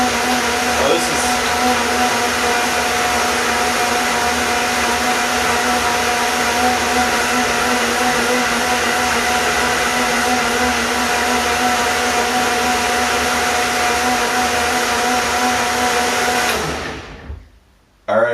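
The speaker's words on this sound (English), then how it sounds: "I like to keep it blending for about 60 seconds." High-speed blender whirring through a smoothie, a loud sustained motor whine with a steady pitch for about seventeen seconds before it cuts off sharply, followed by a brief moment of quiet.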